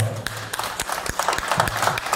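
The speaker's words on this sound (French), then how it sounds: "Des applaudissements chaleureux pour toutes celles et tous ceux qui ne comptent pas leurs heures" Scattered applause for volunteers at a charity event's results announcement, with individual claps audible amid a thin round of clapping and some murmuring.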